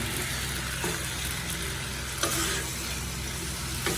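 Boiled pasta stirred in a pan of spicy gravy, sizzling steadily and close, with soft scraping strokes of the spoon at intervals and no talk.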